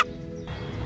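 Chickens being let out give off a brief, close burst of fowl clucking and gobble-like calls over a low, murmuring background.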